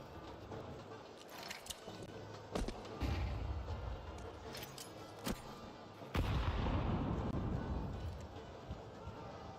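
Grenade blasts in a Counter-Strike 2 esports grand final match, a few sharp booming bursts scattered over steady background game noise, with a heavier rumbling explosion near the end.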